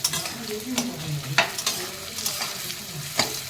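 Onions fry in a pan with a steady crackling sizzle, broken by a few sharper scrapes and knocks of stirring close by, with no voices.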